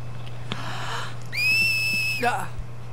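A character in Final Fantasy X whistles one clear, steady, high note for just under a second. Faint game background ambience and a few soft clicks surround it.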